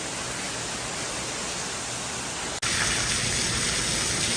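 Steady, dense rain hisses outside an old prison building in Napier, New Zealand, as a constant broadband wash. Partway through there is a brief dip, and then the rain returns slightly louder and brighter.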